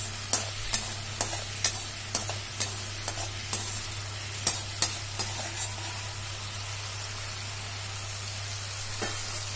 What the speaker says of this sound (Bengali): তারপর দেবো হচ্ছে গোটা কাঁচা লঙ্কাটা আর নুনটা। ভালো করে মিক্স করে নেব।